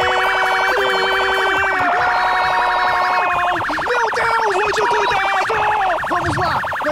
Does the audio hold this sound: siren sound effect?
yes